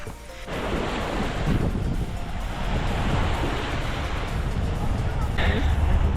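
Surf washing onto a local beach near Chornomorsk on the Black Sea coast, a steady broadband rush with wind buffeting the microphone throughout, surging slightly louder toward the end.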